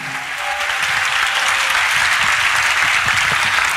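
Steady, loud audience applause fills a church praise concert hall, rising quickly and holding as a dense wash of clapping while a new worship singer is welcomed to the stage.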